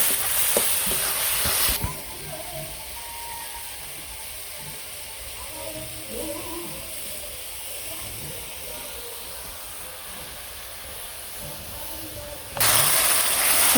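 Spicy masala paste with turmeric and extra chilli being stir-fried in a pan in a village kitchen, a steady close sizzle with scraping stirs that runs throughout, slightly louder at the start and end.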